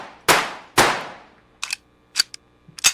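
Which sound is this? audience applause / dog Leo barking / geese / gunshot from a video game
gunshot from a video game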